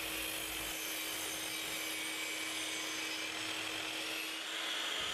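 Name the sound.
Makita LS1216 mitre saw cutting timber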